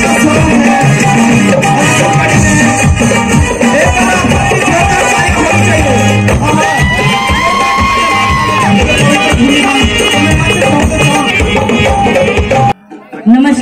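A large crowd at a live Garhwali folk concert cheers, whoops and claps loudly and continuously alongside music, the roar sustained before dropping away abruptly at the end.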